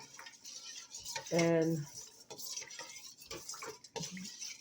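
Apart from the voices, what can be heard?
stirring yeast into water in a bowl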